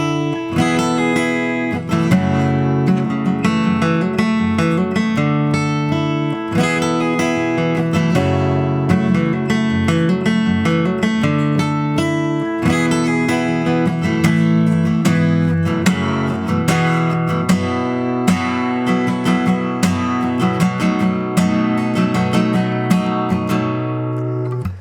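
Acoustic guitar strumming a song's pre-chorus, a steady, loud run of chords with repeated strokes and sustained ringing notes, played alone with no voices.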